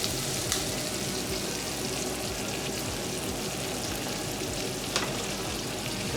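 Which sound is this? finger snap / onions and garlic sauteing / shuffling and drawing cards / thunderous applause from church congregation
onions and garlic sauteing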